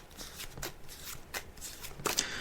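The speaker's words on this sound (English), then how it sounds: "I'm just shuffling the cards now" Tarot cards are shuffled by hand, several soft riffling bursts in a loose rhythm, close and fairly quiet, ending in a brighter snap of cards.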